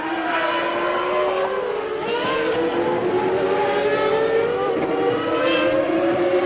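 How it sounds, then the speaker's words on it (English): Formula 1 cars powered by Renault V10 engines race at the 1995 European Grand Prix at the Nürburgring, a loud, high-pitched engine scream with pitch sweeping up and down through gear changes as cars pass, continuous and dominant. "Both these cars, Schumacher's Benetton and Hill's Williams, running exactly the same Renault V10 engine."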